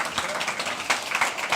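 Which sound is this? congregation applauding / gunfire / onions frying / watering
congregation applauding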